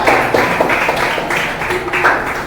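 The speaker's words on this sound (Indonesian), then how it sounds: "Tepuk tangan yuk" Students in a school classroom clap their hands after a group presentation, a steady patter of claps filling the room for a couple of seconds with a faint voice underneath.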